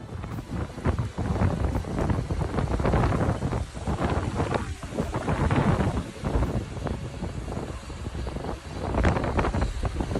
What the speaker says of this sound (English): Strong storm in Medina, Saudi Arabia.